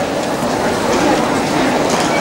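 A train passing through a busy station area in Kraków, a steady, loud rumble with a faint rhythmic rail clatter running throughout.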